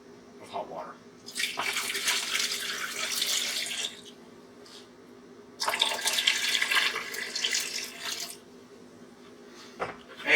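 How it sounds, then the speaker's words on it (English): Hot water from a tap is poured into a digital pressure canner in two strong, rushing bursts of a few seconds each, separated by a short pause, close and loud. "Then I'm going to add 4 cups of hot water."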